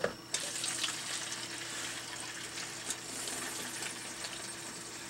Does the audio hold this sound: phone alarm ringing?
no